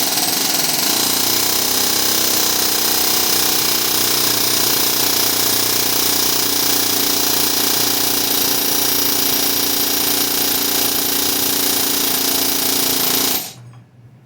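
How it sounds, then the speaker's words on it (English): Loud, continuous rapid hammering of an air hammer on a Town and Country's steel steering knuckle, running nonstop for about thirteen seconds before cutting off abruptly. "So we'll try air hammering it"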